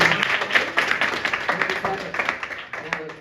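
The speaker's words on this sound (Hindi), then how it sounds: "यार एक बार जोरदार ताली मारो" Crowd applause at a business club meeting, a dense patter of many hands clapping at once, loud and close, with voices mixed in.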